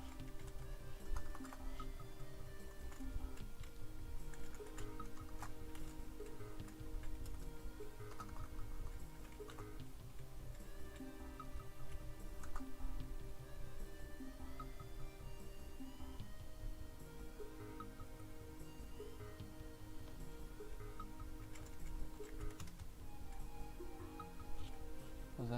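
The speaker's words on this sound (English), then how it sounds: "There we go, with my typing again." Soft, continuous keyboard typing clicks away at a steady pace, faint and close, with no talking.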